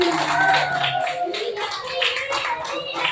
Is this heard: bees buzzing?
no